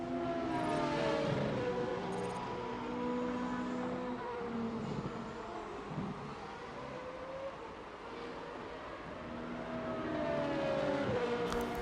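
Race cars from the Motorsport Manager 2 racing game drone past with layered engine whines rising and falling in pitch, a continuous mid-level roar of several cars circulating with no talking.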